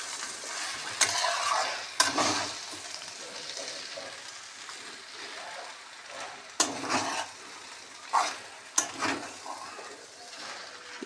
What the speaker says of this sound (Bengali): এবার একটু নাড়িয়ে নেবো।